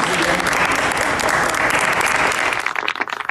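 An audience bursts into dense, steady applause and cheering at a street event in New York, a loud continuous wash of clapping that thins toward the end.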